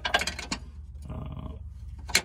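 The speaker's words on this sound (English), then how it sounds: "it really helped if you had a ratchet and wrench" A ratchet wrench works loose bolts on a Chevrolet Silverado while a Tiger bull bar is fitted. Quick bursts of clicking come at the start and end, with a creaking, grinding turn in between, all fairly quiet and close.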